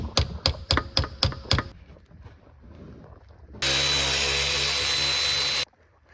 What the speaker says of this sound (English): go to town with the impact or the electric ratchet